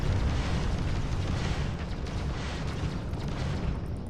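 Sci-fi combat in Starfield rumbles with a dense, continuous wash of gunfire and explosive booms, loud and sustained, with no speech over it.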